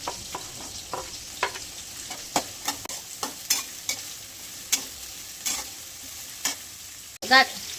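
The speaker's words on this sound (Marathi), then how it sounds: "आता आपण आहे ना कांदा टाकून घेऊया." Onion frying in a pan for Schezwan fried rice, a soft continuous sizzle broken by repeated sharp scrapes and clinks of stirring, close and moderately quiet, with a louder clatter near the end and no talking.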